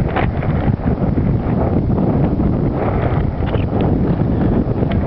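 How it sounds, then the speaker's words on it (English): Strong, continuous wind buffeting the microphone on a mountain summit overlooking El Paso, Texas, a loud roaring rumble with gusty fluctuations throughout and no voices. "The wind's kind of getting worse up here."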